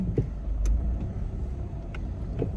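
A 2008-2013 R56 Mini Cooper S reversing, with a steady low engine rumble and a few faint clicks over a constant hum, heard close and without talk.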